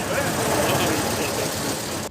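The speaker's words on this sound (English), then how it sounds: "The car doesn't sound quite as perfect as I would like it to" The engine of a 120-year-old veteran car on the London to Brighton run chugs loudly and roughly up close, a dense continuous mechanical rumble.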